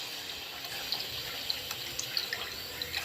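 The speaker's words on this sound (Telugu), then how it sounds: "ఇలా కలిపిన తర్వాత ఇందులో మనం డైరెక్ట్గా వాటర్ వేయాలన్నమాట." Water pours steadily into a pan of chana dal curry, a continuous close splashing rush with a few small drips and clinks over it, and no talk.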